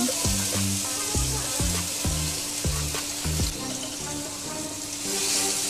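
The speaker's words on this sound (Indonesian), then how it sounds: "Sekarang kita tuang minyak secukupnya. Lalu kita tumis bumbu yang sudah dihalusin barusan" Ground spice paste frying in oil in a nonstick pan for red-spiced tuna, a loud continuous close sizzle with a run of rhythmic low knocks and scrapes from stirring through the first few seconds, no voices.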